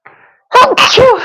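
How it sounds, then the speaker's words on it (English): A single loud sneeze from someone with a cold, close up: a sharp intake of breath followed by an explosive burst, with a faint sound just before it. "So if you see me sneezing, that's why."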